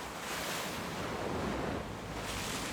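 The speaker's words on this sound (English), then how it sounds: "Maybe the ocean." Ocean surf washes in a steady, unbroken roar, mixed with wind buffeting the microphone, with no voices.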